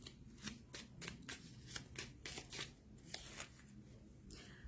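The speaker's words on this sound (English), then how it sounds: "So let me get you one more playing card" Playing cards are handled and shuffled during a tarot-style card reading, a series of quick papery riffles and flicks, close but faint, with a quiet room behind.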